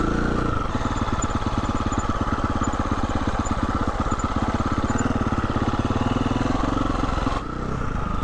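A Husqvarna motorcycle engine runs steadily while ridden on a back road, a loud, close, pulsing drone that holds even throughout, then drops away abruptly near the end.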